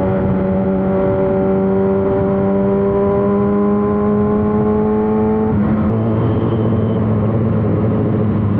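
A Kawasaki ZX6R sport motorcycle engine idles steadily nearby, a loud even hum with a slight shift in pitch partway through and no speech.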